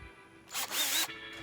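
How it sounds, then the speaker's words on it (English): A power drill boring a hole through a Sprinter van roof, a short harsh whine of about half a second, loud and close over a quiet background. "Yeah, we're drilling."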